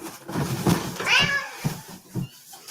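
A man imitates a cat, giving one drawn-out, rising and falling meow up close, followed by a few shorter vocal sounds.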